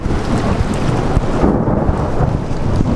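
Deep thunder rolls on and on during a storm, with steady rain hissing over a surface, close and loud with no voices.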